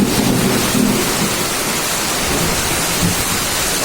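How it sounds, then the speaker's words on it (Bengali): Heavy morning rain pours down in a village with a rumble of thunder early on, a loud, dense, continuous hiss of downpour close by. "অপেক্ষায় থাকি দেখি বৃষ্টি কমে কিনা।"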